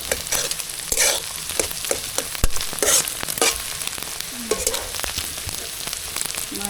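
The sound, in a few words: egg frying in a pan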